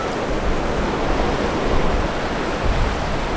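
Seaside ocean waves in Okinawa form a steady, loud wash of surf noise, continuous and rumbling with slight swells, with no talking.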